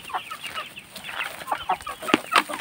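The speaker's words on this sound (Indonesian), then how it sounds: "yang putih-putih ini ayam gaok asli Madura" White Madura gaok chickens clucking and calling in short, irregular bursts, close and fairly clear, with a sharper squawk near the end.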